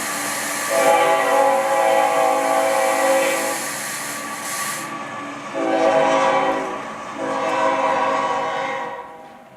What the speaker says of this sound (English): A train is scheduled to leave the next day for 3 cities in Illinois.